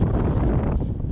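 Steady breezy wind buffets the microphone outdoors at a B-24J Liberator crash site, giving a loud, close, continuous rumble.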